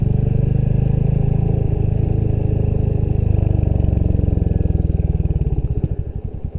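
A Hunter 350 motorcycle is ridden near the Shelsley Walsh hill climb with a steady, loud, chugging single-cylinder engine note. It throttles back toward the end and the pulses turn into a slower, uneven idle.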